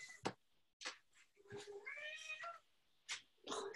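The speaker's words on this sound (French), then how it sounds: "Le chat, tais-toi, non." A cat meows several times up close, drawn-out wavering calls with short sharp noises between, and a little human voice mixed in.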